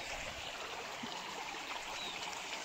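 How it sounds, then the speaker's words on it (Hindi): Spring water runs from a small pipe set into a stream in an Uttarakhand hill village, making a steady, close gushing trickle that continues without a break and with no voices. "धारा बहता हुआ पानी, शुद्ध पानी, कल कल बहती हुई नदी, छोटी नदी।"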